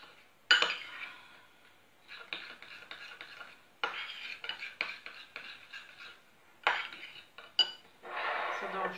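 A spoon stirs a mixture in a bowl, giving bursts of scraping and clinking against the dish separated by short pauses. The sounds are close and fairly quiet.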